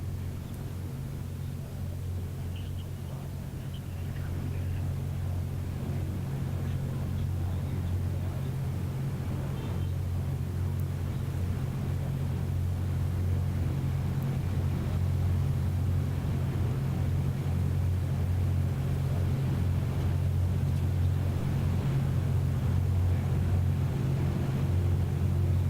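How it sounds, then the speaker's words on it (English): Space Shuttle Atlantis rides atop the 76-wheel Orbiter Transportation System, a steady low, heavy mechanical rumble that drones continuously at an even level throughout, with a faint broadband hiss above it and no distinct events. "Atlantis is being rolled atop the Orbiter Transportation System, which is a 76-wheel vehicle"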